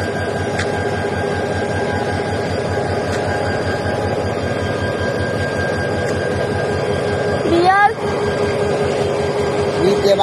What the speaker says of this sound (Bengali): এটাই সম্পূর্ণ ট্রেন চিটাগং মেইল।